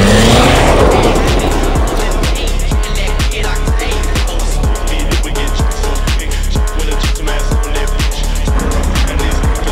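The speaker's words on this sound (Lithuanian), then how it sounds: "pramaišys variklį. Pramaišysim." A car engine revs hard at a Summerfest event, sounding loud and close as rapid regular combustion pulses and a steady roar run throughout.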